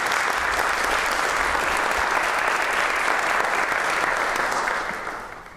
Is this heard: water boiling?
no